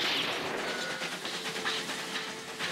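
A cartoon train runs with a steady, dense rush of hissing, rattling noise that stays loud and even throughout, with no voices.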